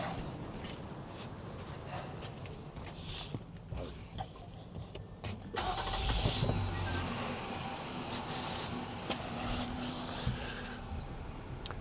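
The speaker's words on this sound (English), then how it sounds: "We're going to start the engine." A Jeep Gladiator's engine starts about halfway through and settles into a steady, moderately loud idle rumble, with wind buffeting the microphone outdoors and no one speaking.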